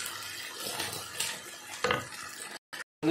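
A spoon stirs rajma and tomato in a cooking pot, producing soft scraping and sloshing sounds close up for a few seconds before brief silences.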